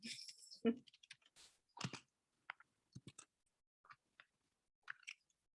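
Sparse quiet clicks and taps of typing on a computer keyboard come in short irregular bursts with silent gaps between them.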